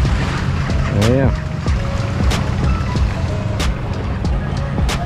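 A steady, rumbling long-tail boat engine runs throughout with water noise at Railay Beach, Thailand, while voices talk over it and a few sharp high sounds cut in.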